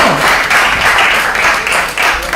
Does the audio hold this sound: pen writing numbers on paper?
no